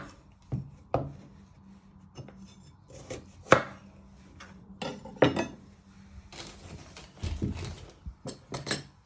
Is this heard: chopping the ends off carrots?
yes